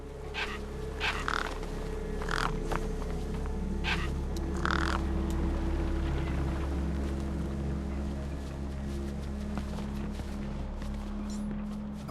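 Gang birds cawing in Beyond A Steel Sky, a run of short harsh calls in the first half over a steady low mechanical hum that carries on alone afterward.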